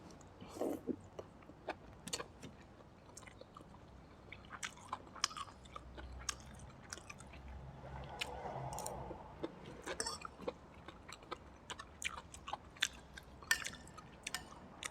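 Close, wet chewing of stir-fried white tongue mushrooms with chicken, crisp crunchy bites in an irregular rhythm, some squishy moments between, with no talking.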